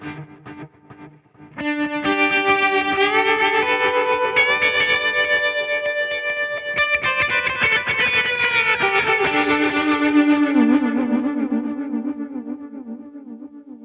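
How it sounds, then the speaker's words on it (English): Tone King Imperial guitar amp with its stereo effects loop on, played loud: sustained, distorted guitar chords wash together under heavy reverb and echo, swelling into a thick, continuous wall of tone with no talking. "Let's turn on the stereo effects loop, and you'll hear definitely that this is in stereo."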